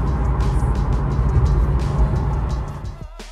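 A Chevy car pulls away with a steady rumbling engine and road noise, close and continuous before fading off abruptly at the end.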